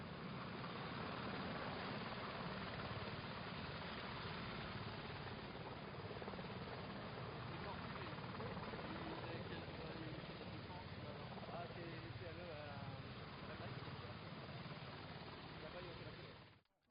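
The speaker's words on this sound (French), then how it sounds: "cet hélicoptère portugais qui se trouve juste derrière nous" A Portuguese helicopter arriving at the Merville air show in France, its rotor and engine noise loud, dense and steady throughout, close by.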